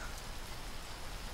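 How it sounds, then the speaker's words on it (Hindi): Steady rainfall pours down at a constant rate, a dense hiss of drops spread evenly with no voices and no pauses. "बारिश हो रही है"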